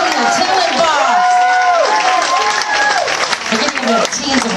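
A festival crowd at the Agat Mango Festival in Guam applauds and cheers loudly and steadily for children from a talent show, with an announcer's amplified voice carrying over the clapping.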